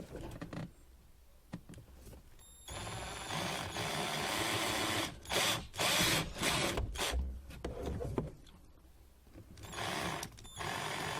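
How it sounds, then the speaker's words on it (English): A 5mm drill bit bores through metal while a Land Rover Discovery 2 dog guard is fitted. Several close, harsh bursts of drilling start and stop in short runs, with rustling and handling noise between them. "so we get our 5mm drill bit."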